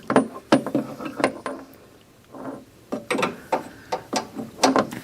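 A ratchet and 1 1/8" socket tighten a steering U-joint on a Steeroids rack and pinion, giving short bursts of clicking strokes with a pause in the middle, close and fairly loud with no talking.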